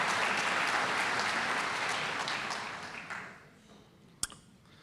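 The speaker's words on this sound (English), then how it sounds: "Let's give him a round of applause." An audience at a speaker event applauds for the mayor of Yorba Linda, a full round that fades out over the last couple of seconds, followed by a single sharp click near the end.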